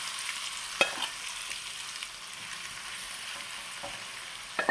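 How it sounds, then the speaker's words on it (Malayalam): Pieces of ground, spiced dried shark fish frying in coconut oil in a Kerala kitchen, a steady soft sizzle with a few sharper clicks of a spoon stirring, alone and fairly faint. "ഇനി അതിലേക്ക് നമ്മൾക്ക് അരവ് പിടിപ്പിച്ച് വെച്ച ഉണക്കമീൻ്റെ കഷ്ണങ്ങൾ ഇട്ട് കൊടുക്കാം"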